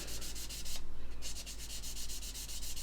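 Fine 600 grit sandpaper rubbed back and forth over a plastic model part, a steady run of rhythmic scratchy strokes, close and moderately loud, with one brief pause partway through.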